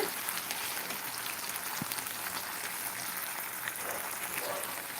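Chicken sizzles and crackles in hot oil with ginger in a pan, a steady close frying hiss throughout.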